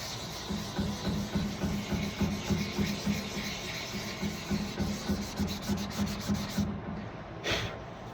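Sandpaper rubbing back and forth over a smooth wood surface, a steady rhythmic scratchy sanding close by that stops near the end.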